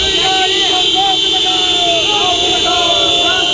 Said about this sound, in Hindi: 20 मिनट तक लगातार ये हॉर्न की आवाज़ आपको सुनाई देने वाली है।